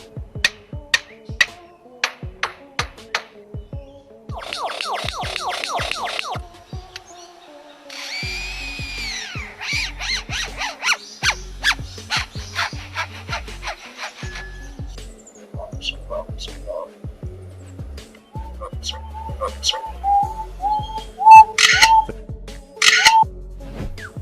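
A mimicking bird reproduces workshop tools, sawing wood, hammering nails and a running drill, in a long sequence of sharp repeated clicks, rasping bursts and whirring buzzes, loud and close, with brief pauses between imitations.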